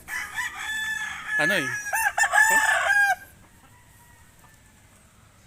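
Roosters and chickens at a Philippine fowl yard crow and cluck loudly and close by for about three seconds, including a rising crow, then fall to near quiet, with a brief spoken word over them.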